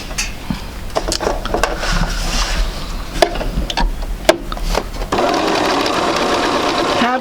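A sewing machine stitches quilt block pieces in short bursts with ticking mechanical clatter, then runs in a steady continuous whir near the end, while someone talks over the earlier part.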